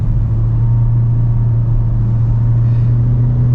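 A Kia Seltos engine in sport drive mode accelerates with a steady, loud low-pitched drone and rumble heard from inside the cabin. No one speaks.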